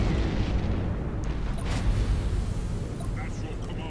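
Heavy bombing explosions boom and rumble continuously in the Battlefleet Gothic: Armada space battle game, loud and close, with a spoken voice layered over the blasts.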